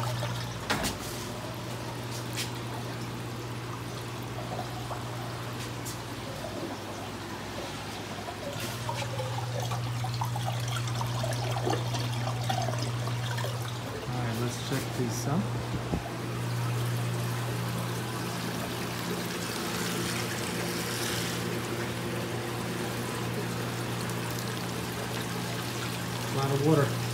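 Steady rushing of water pouring heavily at about 12,000 gallons per hour, a continuous broad wash with a low hum underneath and some clanks and movement in the background.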